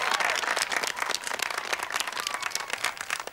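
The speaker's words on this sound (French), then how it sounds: "Je voudrais qu'on l'applaudisse." An audience applauds at an indoor horse-riding competition event, a dense, steady burst of many hands clapping close by for the full stretch, with some crowd noise mixed in.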